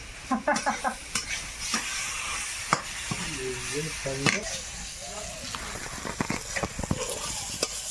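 Chicken and potatoes frying in a pan, with steady sizzling under repeated scraping and stirring strokes of a spatula, close and moderately loud, faint voices in the background.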